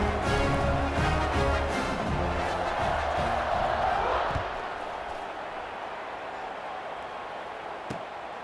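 A stadium crowd roars in a college football video game with App State at Kent State, a broad, loud wash of cheering that drops to a softer murmur partway through.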